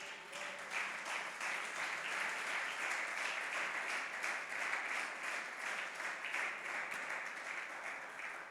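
A church congregation applauds together, a steady, even wash of many hands clapping, faint and distant, sustained for several seconds without voices.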